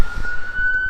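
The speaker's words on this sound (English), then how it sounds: "sorry for the sirens in the background," A steady, high-pitched siren wails in the background over a low rumbling street-noise bed, sustained and unbroken through the short stretch.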